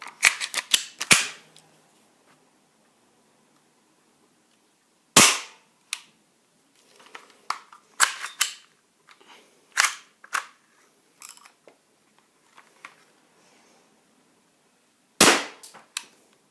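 A Double Eagle M23 BB gun fires in a test, sharp isolated cracks spaced out with long quiet gaps, plus smaller clicks and handling noises between shots.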